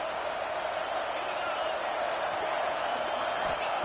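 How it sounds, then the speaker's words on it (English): Steady, dense crowd roar from a stadium in the College Football 26 video game, a continuous wash of cheering with no breaks throughout the short stretch. "This crowd knows when to bring it."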